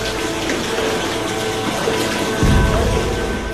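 Street runoff gushing through a large underground drain tunnel, a continuous rushing wash of water that swells louder near the end.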